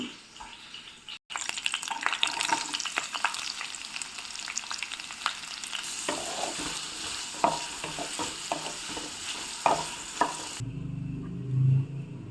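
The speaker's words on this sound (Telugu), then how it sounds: "దీన్ని ఆ ఫ్రై అవుతున్న పచ్చిమిరపకాయలతో యాడ్ చేసుకోవాలి." Chopped onions fry with green chillies in a pan for a tomato curry, with a constant close sizzle and scattered scraping stirs, ending in a brief lower rumble.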